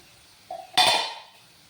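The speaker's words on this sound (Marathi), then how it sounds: "आणि एक एक करून या ताटलीमध्ये मी सगळे वडे काढून घेते" Fried sabudana vadas are set down onto a plate, giving a sharp clatter and clink of crockery with a short ringing decay, preceded by a faint soft knock.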